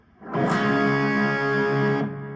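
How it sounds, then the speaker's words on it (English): A single sustained electric guitar chord through heavy distortion rings out loud and buzzy for about two seconds before cutting off, from a song. "So you get this whole distortion going on."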